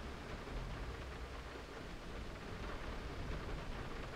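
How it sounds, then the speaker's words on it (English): Steady rain pattering against the windows of a dark, abandoned ship below deck, a dense continuous wash of drops with low rumble, even and unbroken throughout. "I can hear the rain on the windows, how cool is that?"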